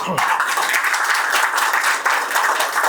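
A crowd at a social justice rally in Tamil Nadu breaks into loud, dense applause, continuous clapping that swells right after a brief opening sound and stays strong throughout.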